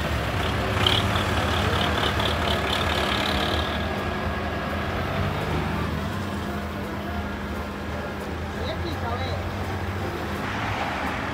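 A tow truck idles with a low, rumbling engine while preparing to winch a car at night, steady and moderately close, with a brief hiss and people talking over it.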